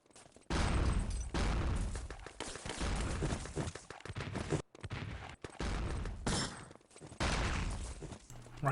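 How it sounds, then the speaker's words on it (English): Enemy Territory match gunfire with headshots, dense bursts of loud rapid shots and impacts nearly filling the stretch, broken by a few brief gaps. "Nice 2 headshots from Aquila there."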